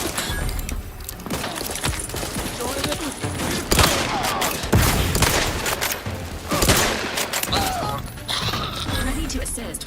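Rapid gunfire from the sci-fi shooter Outer Worlds 2, dense bursts and single shots layered with explosions and game effects, loud and continuous throughout with voices talking over the action.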